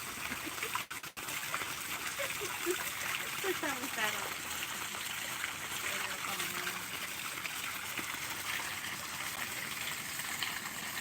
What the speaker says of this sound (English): we just listen to the waterfalls and stuff